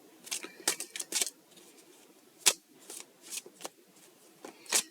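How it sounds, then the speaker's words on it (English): A deck of Disney playing cards is shuffled close by. Quick riffling bursts and soft snaps come in an uneven rhythm over several seconds, with no other sound around them. "I'm just shuffling the Disney deck"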